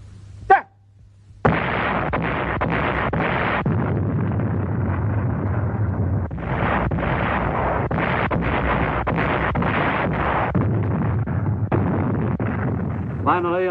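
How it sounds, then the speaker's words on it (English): Japanese artillery and heavy-weapon bombardment of the Corregidor island fortress in WWII newsreel footage: a dense, continuous roar of blasts and rumbling fire that pulses in bursts, loud and sustained throughout, with no speech. "the Japanese bombarded the island fortress with every weapon at their command"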